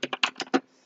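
Keys tapped on a computer keyboard while writing code, five quick close clicks in an uneven burst followed by a short quiet tail.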